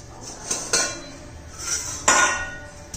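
A lid lifted off a steel pot of steamed potato pieces on a gas stove, giving a few metallic clinks and clanks, two sharper knocks among them, in a quiet kitchen with no talk.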